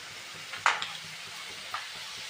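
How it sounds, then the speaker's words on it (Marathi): Kurkure snacks deep-frying in hot oil over low heat, a steady soft sizzle with a couple of sharp clattering bursts as pieces are stirred or dropped in, no talking. "दुसरे पण आपण असेच तळून घेऊयात."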